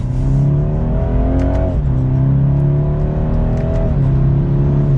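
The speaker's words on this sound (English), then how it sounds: "That is almost full throttle, and we are well up to speed." A 2022 BMW 230i accelerating at nearly full throttle, its engine note loud and close, climbing steadily in pitch, then dropping briefly at two gear changes before climbing again.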